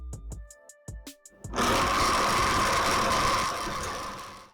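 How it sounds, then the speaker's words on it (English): A countertop blender whirring soaked almonds with water into almond milk, a few sharp clicks followed by a loud, continuous motor roar that holds steady close by. "and blend the nuts out of it."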